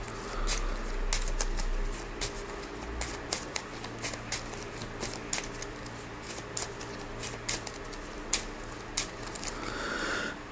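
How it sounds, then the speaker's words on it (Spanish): Playing cards for the Marvel Champions card game being shuffled by hand on a table, a quiet run of quick riffling snaps and taps repeating steadily across the clip with no talking. "Voy a barajar esto y ahora continúo con la cosa."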